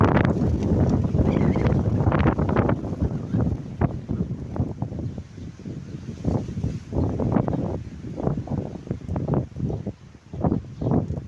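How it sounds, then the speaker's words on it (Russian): Hurricane-strength wind tears through a street in Kamyshin, scattering traders' abandoned crates, and roars in loud, continuous gusts that buffet the microphone for the whole stretch. "ветер ураганный просто"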